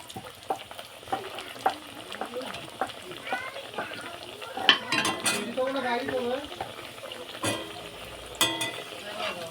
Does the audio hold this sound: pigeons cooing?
no